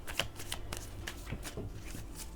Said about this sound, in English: Let me just shuffle these a little bit more,